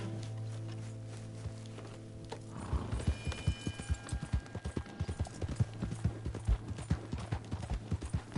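Horse hooves clip-clopping at a steady walking rhythm in the video game Red Dead Redemption 2, following a low hum and a brief snort.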